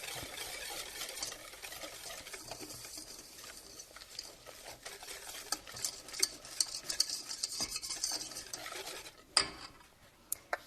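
Eggs are stirred into milk to make a paste, giving a close, continuous clink and scrape of a utensil against a bowl, with sharper taps near the end.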